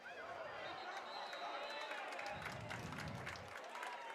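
Crowd at a high school football game between Harrisonville and Oak Grove cheering and applauding steadily throughout, a broad wash of noise with a louder swell partway through, with an announcer's voice faintly present.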